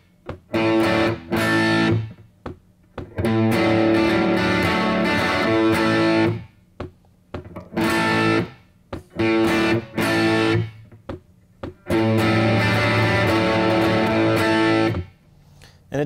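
Distorted electric guitar plays a riff at full speed, loud chord stabs in repeating bursts separated by short gaps, with no voice over it.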